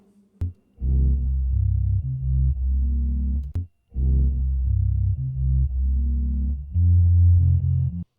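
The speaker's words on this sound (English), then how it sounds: "let's get into the bass from the MPC stem right here" Isolated bass stem split out by an Akai MPC's stem separation, a loud, steady low line of sustained notes playing in phrases, with two brief gaps and a faint trace of Rhodes keys behind it.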